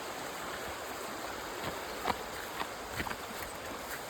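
Steady broadband rush of river water flowing along a mountain path, continuous and moderately loud, with a few faint clicks and steps scattered on top and no talking.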